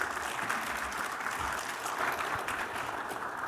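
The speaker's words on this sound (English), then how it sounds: "Please give her a round of applause." At a quantum technology panel at the NAI 2023 conference, a hall audience gives steady, even applause from start to finish, with no talking over it.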